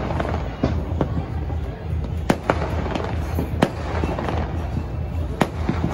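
Firecrackers burst during Diwali celebrations in Mumbai, with sharp cracks and pops scattered irregularly over a constant rumble of more distant bursts.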